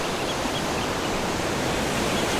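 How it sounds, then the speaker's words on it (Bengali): Steady roar of sea surf washing onto a beach at Bagda, a continuous broadband rush without distinct breaks and no voices. "আওয়াজটাও যেন বেশি লাগছে সমুদ্রের"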